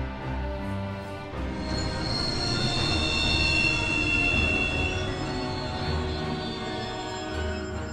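A train in Final Fantasy XV grinding to a halt, its wheels squealing in loud sustained high-pitched tones over a heavy rumble for several seconds.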